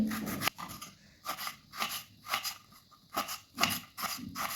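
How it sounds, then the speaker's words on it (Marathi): Knife chopping fresh tomatoes finely on a board for tomato chutney, a run of quick, close, crisp cuts in uneven bursts, with no talk. "टोमॅटोला आपल्याला बारीक चिरून घ्यायचे."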